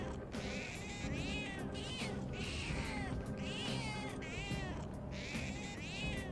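A cat meows again and again in the Persona 5 Royal video game, a loud run of drawn-out meows that repeat throughout over steady game music.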